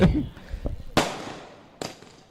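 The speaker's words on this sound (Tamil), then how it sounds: "இப்படி ஒரு வான வெடியை என் வாழ்க்கையில நான் பார்த்ததே இல்லை" Firecrackers or sky fireworks burst in three sharp, loud cracks spread over about two seconds, each trailing off in a fading rumble, with faint voices in the background.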